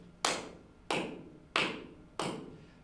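Hand claps struck at an even, steady pulse, five sharp close claps spaced about two-thirds of a second apart, each ringing briefly in a quiet room.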